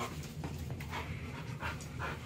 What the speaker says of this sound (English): This is our big dog friend, Gibby.